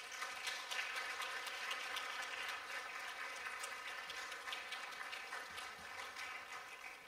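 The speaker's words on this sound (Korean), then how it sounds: "우리 목사님 나오실 때 큰 박수로 환영해 주시겠습니다" An audience at a Friday late-night church prayer service applauds steadily for several seconds, a faint, even patter of clapping heard from a distance.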